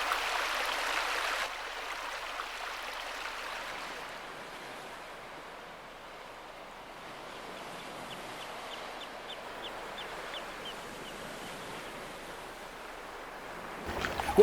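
Steady wash of sea surf as the tide returns at the Isle of May on the Firth of Forth, a broad continuous rushing that swells and eases, moderately distant, with no voices.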